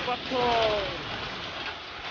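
Early-morning rain mixed with hail falls in a steady, dense hiss on the ground, close and continuous, with a voice briefly audible beneath it.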